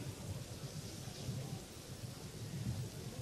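Steady rain pours and thunder rumbles low and continuous during an outdoor jazz concert, a dense, loud wash with no music standing out.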